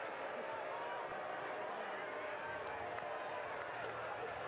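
A stadium crowd behind the goal at a Louisville City FC versus New York Red Bulls II soccer match sends up a dull, distant murmur of disapproval at a referee's decision, partly under commentary.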